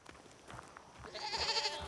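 A goat bleats in the Indiana Jones and the Great Circle video game, a single wavering, nasal bleat rising over quiet ambient game sound near the end, moderately close and alone.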